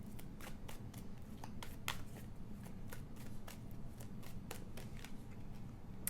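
Tarot cards being shuffled close up in a quiet room: a rapid series of crisp riffling snaps and flicks, steady and moderately loud, over a low background hum, with no talk.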